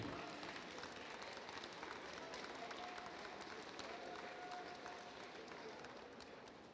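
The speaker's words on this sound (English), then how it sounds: "Let's hear a round of applause for Freestyle Showcase University." Audience applause at a robotics competition freestyle showcase, a steady, dense wash of many hands clapping from a crowd that tapers slightly toward the end.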